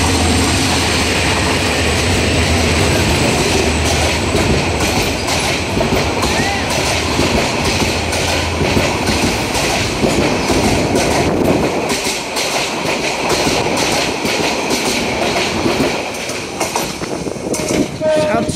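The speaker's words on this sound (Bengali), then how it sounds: "727 আপ চাপা এক্সপ্রেস ট্রেনটি 2907 লোকোমোটিভ নিয়ে মন্নতপুর রেলওয়ে স্টেশন অতিক্রম করলো" Dolonchapa Express hauled by locomotive 2907 on a narrow-gauge line passes Mannatpur railway station loud and close. Rolling wheels rattle and clack steadily throughout, a horn sounds, and a voice talks over the noise.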